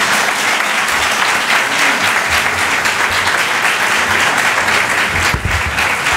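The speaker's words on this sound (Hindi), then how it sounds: "यीशु के लिए जोरदार तालियां बजाएं" Loud, sustained applause fills a church as the congregation claps for Jesus during a Christmas sermon, steady and unbroken throughout.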